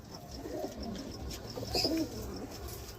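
Giribaz and Madras pigeons cooing nearby in a loft, a few low throaty coos over a noisy, busy background.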